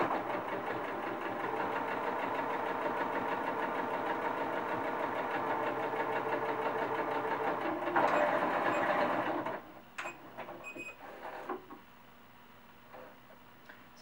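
Sewing machine stitching a cloth doll runs steadily and quietly for about ten seconds, then stops as the needle stays down to pivot at a corner, leaving faint handling clicks.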